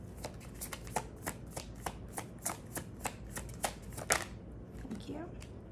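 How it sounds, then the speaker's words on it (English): Tarot cards being shuffled in a steady series of crisp riffling slaps, close and moderately loud, with a few brief soft sounds in between. "this card kept showing up throughout the pre-shuffle"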